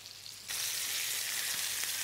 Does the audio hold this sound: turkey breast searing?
yes